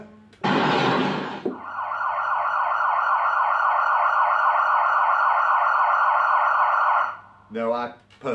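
A loud emergency siren wails steadily up close after a brief burst of noise, with a sharp yelp at the end.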